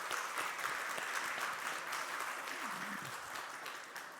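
A church congregation at a Sunday worship service claps in welcome. The applause is steady and moderately loud, a continuous wash of hand claps that carries on throughout.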